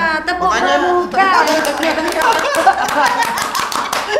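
Indonesian scout group (Pramuka) performing the tepuk pramuka clap: a chanted voice sets the pattern, then a rhythmic burst of many hands clapping in sequence, with laughter and chatter mixed in.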